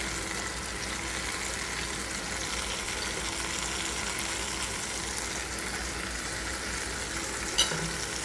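Tomato chutney sizzles steadily in a pan as raisins and chopped mango leather go in, a constant close frying hiss with a small clink near the end.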